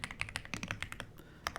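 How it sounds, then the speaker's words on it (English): Typing on a computer keyboard, entering a SQL select statement: quick, irregular bursts of light clicking keystrokes, close and quiet, with no voices. "We're just going to go down a couple lines and type a different select statement"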